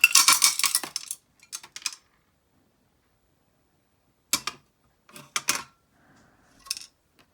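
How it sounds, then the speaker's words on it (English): A handful of screws and small hardware dumped out at a door operator repair bench, sharp metallic rattles and clinks in a few separate bursts with silent gaps between them. "I just dumped all my screws and stuff."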